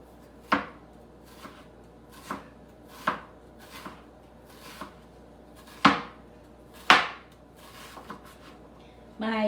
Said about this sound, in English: Now we're going to slice an onion really, really, really thin